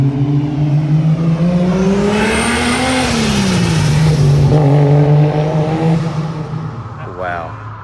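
A Ford AE Falcon's engine revs and pulls as the car drives, a loud close drone whose pitch climbs, holds, then dips and settles, with an intake note and a brief rise near the end.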